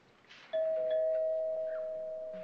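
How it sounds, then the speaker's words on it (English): Doorbell in a 1978 film scene: a single clear electronic ding tone rings out and sustains, slowly fading, clean and fairly close with no speech over it. "That's the doorbell."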